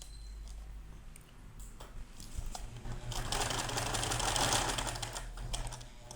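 Close by, a sewing machine stitches and backstitches a seam with a fast mechanical whir, running steadily and getting louder toward the end, with no talking.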